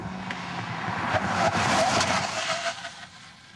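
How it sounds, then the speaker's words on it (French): A 2007 Suzuki SX4 braking hard with its anti-lock brakes working, heard as a loud, steady broadband roar of tires and road that swells in the middle and eases off toward the end, with no talking. "Le freinage anti-blocage travaille énormément."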